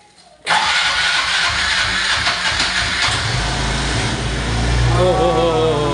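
A 2021 Aprilia motorcycle engine starts abruptly after a quiet moment, then runs with a loud, raspy, continuous idle close by, rising slightly toward the end, with voices underneath.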